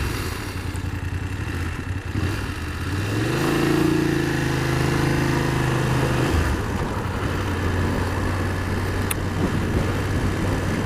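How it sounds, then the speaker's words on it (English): BMW F750GS sport motorcycle with TFT screen ridden on the road, its engine droning steadily under wind rush, rising in pitch through a gear as it accelerates, then settling back to a lower cruise. "We're out on a BMW GS 750."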